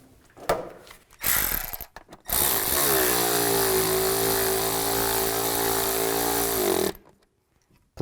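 A power tool drives bolts in a tensioner pulley job on a 2005-15 Nissan Xterra, with short whirring bursts followed by one long, loud, steady whine that slows slightly before cutting off.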